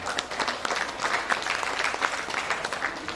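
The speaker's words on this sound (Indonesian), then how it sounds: "Tepuk tangan untuk yang membuat temanya." A crowd at a Maulid Nabi celebration applauds with steady, moderately faint clapping that holds for the whole stretch, with no talk over it.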